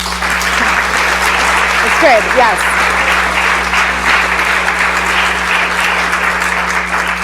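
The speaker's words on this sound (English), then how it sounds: "Definitely clap for that." Steady, loud applause from an audience at a Medford city inauguration ceremony, dense clapping held throughout, with a brief voice and a short cheer heard over it.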